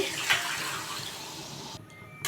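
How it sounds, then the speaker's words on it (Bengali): Water is poured into a pan of egg curry, giving a brief, steady close-up gush that cuts off near the end. "ভালো করে কষানো হয়ে গেছে এবার জল দিয়ে দিচ্ছি"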